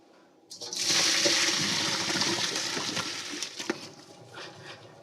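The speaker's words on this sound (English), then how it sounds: "Let me strain the string beans and potatoes together." Boiled string beans and potatoes with their water are poured into a strainer, making a close, rushing gush of water that starts suddenly, splashes steadily, then tapers into drips and small clatters.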